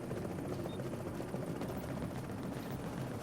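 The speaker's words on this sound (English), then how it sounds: "Helicopters here, yes!" Helicopter extraction arriving in the video game The Division's Dark Zone, a steady loud rotor-and-engine drone filling the scene without pause, with no one talking over it.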